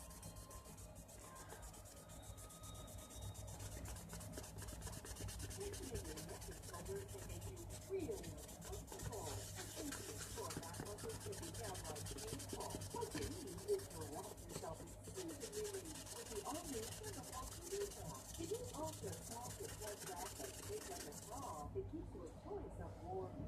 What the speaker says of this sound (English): Now this is 3000 grit sandpaper, which should bring it out a little bit smoother.